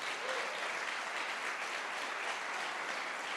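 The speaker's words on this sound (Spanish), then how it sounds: "si vas a darle un aplauso," Loud audience applause from a church congregation, thick continuous clapping from many hands holding steady from start to finish with no talking over it.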